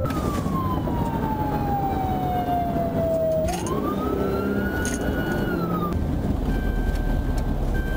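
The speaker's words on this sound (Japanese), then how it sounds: "彼はすぐ警報灯をつけ、サイレンを鳴らし車を止めた。" A police siren wails steadily, its pitch sliding down and then rising again, heard close over the rumble of road traffic during a US traffic stop of a speeding Mercedes SUV.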